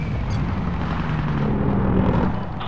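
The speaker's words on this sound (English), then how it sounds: "Fire a cannon." A cannon blast in the video game Medal of Honor: Tier 1, deep and sustained, filling the clip, loud and continuous like a heavy explosion rolling on, with a faint hum underneath.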